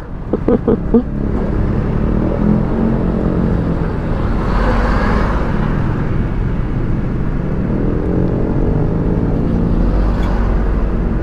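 Heavy road traffic at the NLEX Marilao interchange, heard from an FKM Slick 400 motorcycle weaving between vehicles: a steady, loud roar of engines and road noise runs throughout, with brief voices near the start.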